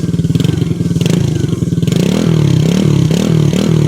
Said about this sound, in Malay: Untuk bunyi enjin ni pun sedap juga guys. Dia tak bunyi kasar.